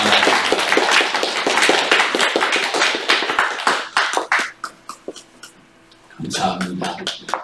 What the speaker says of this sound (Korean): 오늘 선물 오 권사님 박수하겠습니다